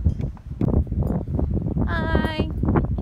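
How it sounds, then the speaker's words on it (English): Strong wind rushes and buffets the microphone outdoors at a barn, a continuous rumbling roar with rustling, while a horse-like whinny sounds briefly in the middle. "it's very windy"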